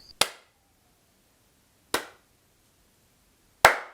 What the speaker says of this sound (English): I think Alana deserves a slow clap.